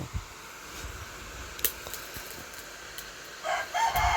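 A rooster crows in the distance near the end, faint against a quiet background hiss with a few soft knocks earlier.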